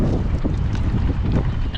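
Wind blowing outdoors, a steady roaring rush buffeting the microphone with low rumble throughout, close and fairly loud, no speech.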